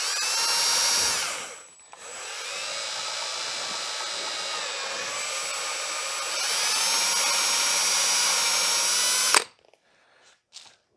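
A power drill pre-drilling hardwood whines steadily at high speed, stopping briefly then running again for several seconds before cutting off, followed by faint clicks.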